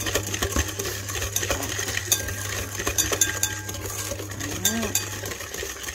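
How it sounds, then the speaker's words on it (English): A whisk stirs homemade custard in a pot, giving soft metallic scraping and clinking against a steady background hum, with a brief spoken word. "So stir. So look how I hold my whisk."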